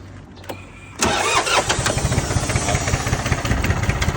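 A Yanmar F18D three-cylinder, 18-horsepower four-wheel-drive tractor engine cranks briefly, then catches and settles into a loud, steady, close-up idle with a throbbing rhythm.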